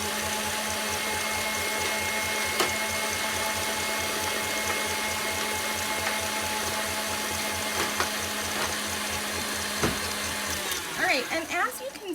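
An electric mixer whirs steadily through cinnamon cheesecake batter made with cream cheese, a continuous motor drone with a few light knocks against the bowl, growing rougher near the end.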